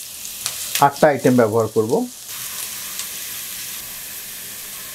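About a dozen cross-cut green chillies hitting hot oil for a mixed vegetable dish; someone speaks first, then a bright, steady sizzle bursts up and keeps going.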